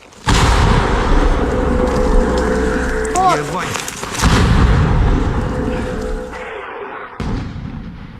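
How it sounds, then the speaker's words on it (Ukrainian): A heavy mortar blast booms out loudly, followed by a long rumbling echo that fades over several seconds, with voices briefly audible. "Перший постріл з М240."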